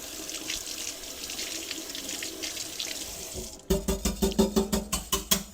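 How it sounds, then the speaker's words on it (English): A whisk is rinsed under a kitchen tap, first with a steady stream of running water, then with a quick run of sharp knocks as it is tapped dry. "Just going to go ahead, give this whisk a little rinse."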